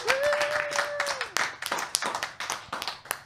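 A round of applause at a live comedy podcast taping celebrating Founders Day, with sharp hand claps building and pattering across the room, a brief whoop near the start, fairly distant and moderate.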